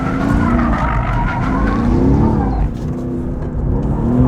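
A Mercedes-AMG GT S drifting, its engine roaring loud and close under hard throttle while the tyres squeal continuously, the engine note rising and falling through the slide.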